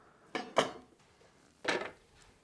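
Knife quartering carrots lengthwise on a cutting board, heard as three short chopping knocks, two close together and then one more after a pause, near and fairly clear with no talk.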